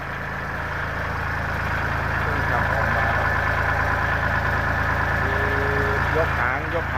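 A repaired car's engine running at a steady, close idle-like drone while the car is driven off, a constant low rumble that holds evenly throughout.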